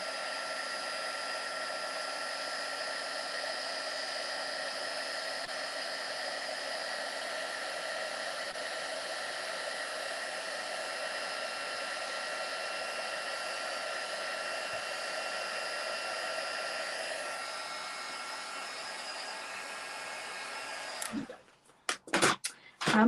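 A heat embossing tool blows hot air in a steady, loud whirring roar that holds for about twenty seconds, then cuts off abruptly, followed by a few brief knocks and handling noises.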